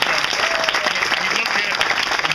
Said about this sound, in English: I just want to applaud these kids.